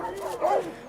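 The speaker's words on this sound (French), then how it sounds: "ça aboie beaucoup" A dog yips or whimpers once at a Korean dog meat farm where the dogs are kept in sad conditions. The sound is short and moderately loud against a noisy background.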